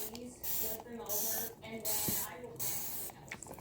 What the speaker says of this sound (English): we gotta mist it in. Once it get wet, it'll stop flying.